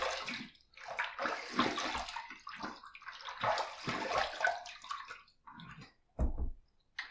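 A Timeless titanium razor with a 0.95 blade gap is rinsed under a running tap, giving several seconds of steady broadband splashing and gurgling that pauses briefly, then ends with a short final burst of water.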